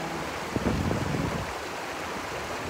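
A river rushes in a continuous broadband wash of flowing water, steady and moderately loud, with a brief burst of splashing texture early on and no speech.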